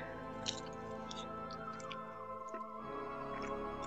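Faint, close-up wet chewing of spicy Korean buldak chicken, soft squishy mouth sounds repeating irregularly over a low steady background hum, with no talking.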